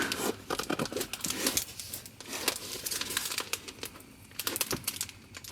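Packing tape on a tablet box is torn and peeled away in several crackling, ripping bursts, close and fairly loud, with crinkling between pulls and no talk.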